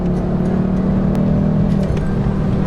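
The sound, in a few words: Ford Focus ST car accelerating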